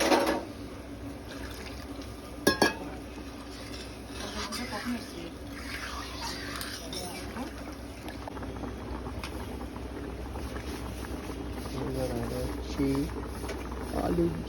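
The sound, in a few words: potato curry boiling in a pot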